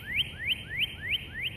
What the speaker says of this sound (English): I just love that bird.